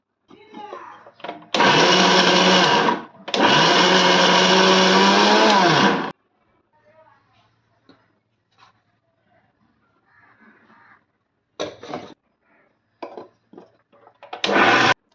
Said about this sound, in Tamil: ஃபஸ்ட்டு கருவாடையும் காஞ்ச மிளகாயும் அரைச்சிக்கலாம்